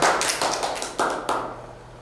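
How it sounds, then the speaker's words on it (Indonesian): A few quick claps or taps land in a short burst, each sharp hit ringing briefly before the next, then fading out. "Oke, tepuk tangan semuanya."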